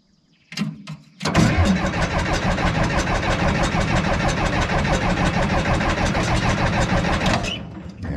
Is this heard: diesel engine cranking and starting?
yes